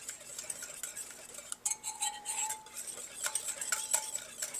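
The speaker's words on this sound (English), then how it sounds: "Now I give it all a good whisk, making sure to get all that orange zest off the side of the bowl" A whisk beats pancake batter with orange zest in a bowl, giving quick rhythmic metallic clinks and scrapes against the sides, close and fairly quiet, with no talking.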